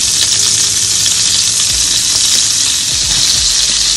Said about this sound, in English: I'm gonna try to get these all in there and get them browned.